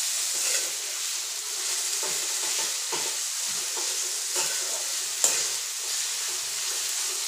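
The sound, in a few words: stirring tomato and ginger-garlic paste frying in pan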